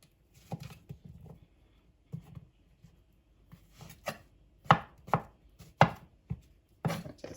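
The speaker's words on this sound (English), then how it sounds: "I'm just gonna slice the mushrooms" A knife slices mushrooms on a cutting board with a series of crisp, close taps that begin soft and sparse and grow sharper and more regular, with no one speaking.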